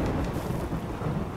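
Rumbling thunder after a lightning strike in the colony game RimWorld, a steady, loud, broadband roll mixed with rain-like hiss that holds throughout without any talk.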